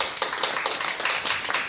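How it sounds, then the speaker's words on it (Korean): A small audience claps steadily during a health talk on exercise for middle-aged hemophilia patients, giving an even run of close, crisp handclaps for under two seconds. "박수 한번 주세요."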